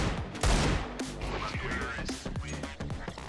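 Rapid gunfire bursts in a video game, loud and close with sharp repeated shots layered over busy game sounds and a voice talking in Turkish.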